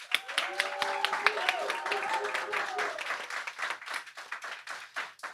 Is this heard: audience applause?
yes